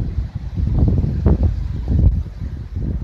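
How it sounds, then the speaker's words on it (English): Gusty wind blowing through trees on Cape Cod during Hurricane Jose, a steady low roar with rustling swells and brief stronger pulses, close and buffeting the microphone throughout. "There's a little gust."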